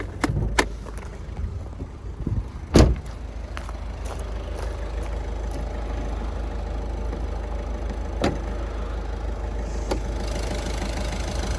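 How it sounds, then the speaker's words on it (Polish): Engine of a Ford car running at a steady idle close by, a continuous low rumble with a few sharp clicks and a louder knock near the start, no talking. "Motor pięknie pracuje, pięknie jeździ."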